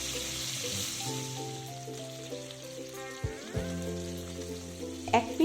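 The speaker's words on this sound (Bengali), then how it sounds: "তেল একটু ভালো করে গরম করে মাছগুলোকে তেলে ছাড়ছি।" Khoira fish sizzle in hot mustard oil in a pan, a steady crackling fry under background music, with a few sharper spits and pops near the end.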